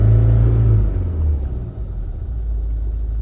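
A Mazda CX-5 Skyactiv engine, its throttle held open to around 3,500–4,000 RPM, gives a loud, steady low rumble that eases slightly after the first second and then holds as a constant hum.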